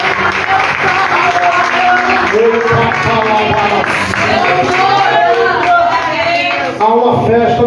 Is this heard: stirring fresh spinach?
no